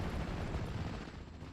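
Anti-tank gun fire in Steel Division: Normandy 44, a Pak 38 shooting at an M5 half-track amid a WWII Normandy battle, heard as a loud, dense rumble of cannon blasts and battlefield noise that fades slightly at the end.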